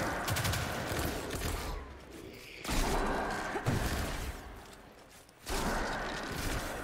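Loud blasts of shotgun fire in the Destiny video game, a few heavy booming shots spaced a couple of seconds apart, each dropping off into a quieter mechanical rattle and clatter.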